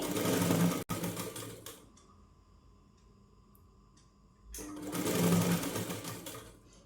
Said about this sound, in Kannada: ಡಮ್ಮಿ ಸ್ಟಿಚ್ಚಿಗೆ ಇಟ್ಕೊಂಡು ನಾನು ಇದನ್ನು ಸ್ಟಿಚ್ ಮಾಡ್ಕೋತೀನಿ